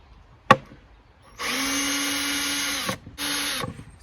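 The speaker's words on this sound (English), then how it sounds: "Let's work these screws out." After a single sharp click, a power drill whirs in a long steady burst backing screws out of a wooden beehive, stops briefly, then runs again in a shorter burst.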